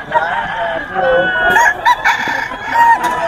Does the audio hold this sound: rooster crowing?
yes